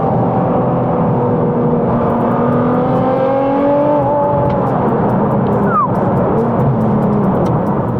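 A Litchfield-tuned 757 bhp Nissan R35 GT-R Nismo in track spec pulls hard through its gears, the loud engine note climbing in rising sweeps with brief breaks at each shift, heard close from inside the car.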